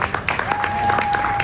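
Brief burst of audience clapping after a live experimental music performance, a dense patter of many hands with a steady tone sounding through it.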